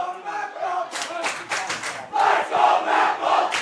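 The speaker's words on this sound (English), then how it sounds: "Crowd getting loud here." Spectators at a boys high school soccer game grow loud, a swelling roar of shouts and cheers that surges in waves and builds to a sustained peak near the end.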